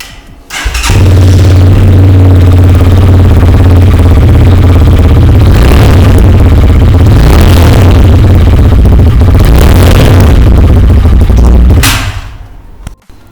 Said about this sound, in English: let's hear how this motorcycle sounds